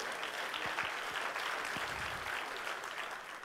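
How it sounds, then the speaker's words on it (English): A church congregation claps in praise, a dense continuous wash of applause holding steady throughout with no talk over it. "give God a hand clap of praise"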